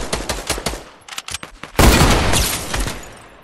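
Rapid bursts of gunfire from the video game Fortnite, a quick series of close sharp shots followed by a louder sustained barrage with a boom, all alone without voices.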